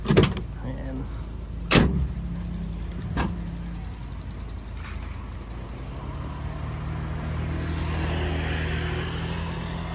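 Ford Ranger Raptor door being unlocked and opened: a couple of sharp latch clunks and clicks near the start, then a low steady hum that follows. There is faint background noise.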